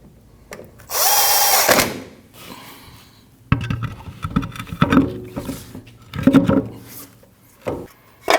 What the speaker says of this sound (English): Now your last screw underneath your mud flap. And tighten that down.